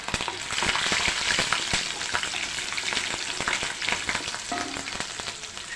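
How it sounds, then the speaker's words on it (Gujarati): Curry leaves and green chilies frying in hot oil for upma, a loud, close, continuous crackling sizzle with sharp pops, heard alone without talk. "મીઠા લીમડાના પાન એડ કરીશું અને આ તીખા મરચાં લીધેલા છે એ એડ કરી દઈશું"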